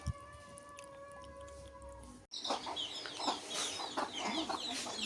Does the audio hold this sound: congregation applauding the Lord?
no